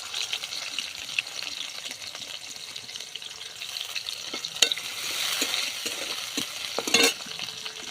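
Onions frying in a pan with ground spice paste, a steady soft sizzle with light stirring scrapes and a couple of sharper clatters, close and fairly quiet.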